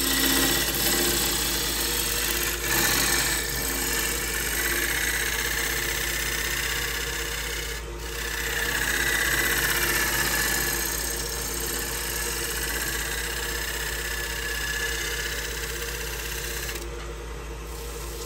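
A wood lathe spins a bowl blank while a 60-degree bowl gouge shapes the outside, giving a steady motor hum with a continuous hissing cut that swells and fades as the tool passes, close and alone without talk.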